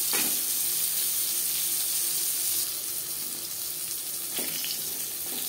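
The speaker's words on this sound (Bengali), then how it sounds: "আমি এখানে একটু হালকা করে ভেজে নেব। এইভাবে পটল ভাজলে পটলের ভেতরে একটা জলজলে ভাব থাকবার সম্ভাবনা থাকবে না।" Pointed gourd (potol) shallow-fries lightly in oil for Bengali tel potol, a strong, even sizzle close by, dropping slightly partway through, with a couple of brief stirring knocks.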